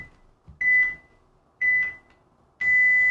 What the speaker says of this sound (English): I know buzzer's done.